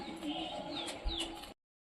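Soft cooing of pigeons coming down to feed murmurs over a steady outdoor hum, with a couple of faint chirps; the sound cuts off abruptly.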